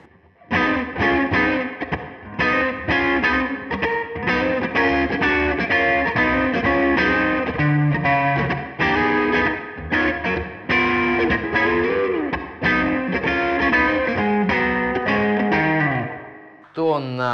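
An electric guitar plays through a Nux Steel Singer overdrive pedal with the tone set at a quarter, giving a loud, continuous distorted line of chords and notes that stops near the end.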